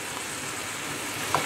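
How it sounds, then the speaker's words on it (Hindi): Ginger garlic paste frying in oil in a kadhai, a steady, even sizzle that holds throughout with no voices over it. "जिंजर गार्लिक पेस्ट को हम 10 सेकेंड के लिए पका लेंगे"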